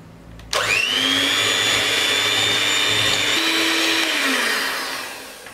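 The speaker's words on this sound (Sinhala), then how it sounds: "අපි දැන් මේ බටර් එකේ පාට ලා පාටට හැරෙනකම් බීට් කරගමු" Handheld electric mixer beating 100 grams of butter for a coffee cake, starting abruptly with a loud steady whine that holds for several seconds, its pitch dipping slightly midway before winding down.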